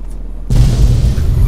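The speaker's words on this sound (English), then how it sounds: "I'm going to start an explosion." A Fallout 3 explosion in the wasteland bursts in abruptly after a low hum, a loud, heavy boom that rolls on as a roaring, rumbling blast with no speech.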